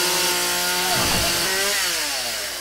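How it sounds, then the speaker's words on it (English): A chainsaw in the video game 7 Days to Die roars continuously while skinning a pig, loud steady engine whine with a dip and shifting pitch as it bites, alone without talk. "skinning a pig with a chainsaw, bad idea."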